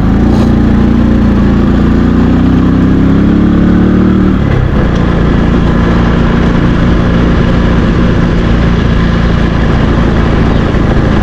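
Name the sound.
motorcycle riding in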